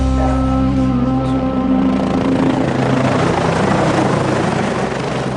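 Military helicopters hover nearby during combat training, their rotors and engines producing a loud, continuous whirring drone with a steady throb throughout, without voices.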